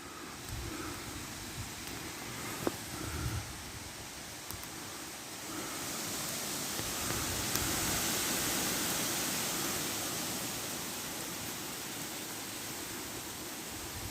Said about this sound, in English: Now it's super windy gusts coming.